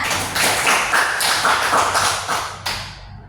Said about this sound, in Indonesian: berikan aplaus untuk temannya